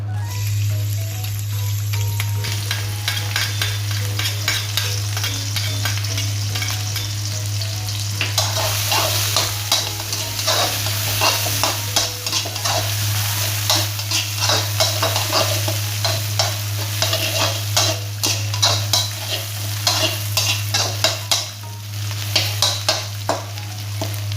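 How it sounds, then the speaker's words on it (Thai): Pounded chili and garlic sizzle and crackle in hot oil in a wok, with steady scraping stir-fry strokes close up for the whole stretch and no talking. "พอน้ำมันร้อนนะครับ เราก็ใส่ตัว พริกกับกระเทียมที่เราโขลกนะครับลงไปเลย"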